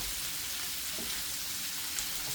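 Home fries sizzle with butter in a frying pan on a home stove, giving a steady, soft, hiss-like crackle with no voices.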